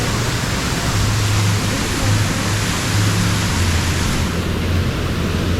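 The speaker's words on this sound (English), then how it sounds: "That water is rushing." A rushing waterfall roars in a steady, dense wash of white noise, loud and close, continuous throughout with no break.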